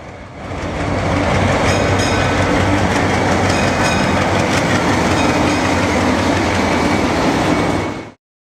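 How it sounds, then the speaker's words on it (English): A train on Peru's southern rail system rolls steadily and loudly nearby, with a continuous rumble and faint rhythmic clatter of wheels on track, ending abruptly. "got back on the train"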